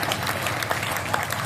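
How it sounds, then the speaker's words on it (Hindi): An audience at a Hindi kavi sammelan poetry recital claps in a dense burst of steady applause that lasts through the short moment, with no speech over it. "एक बार तालियां बजाकर मुझे आगे सुनिए"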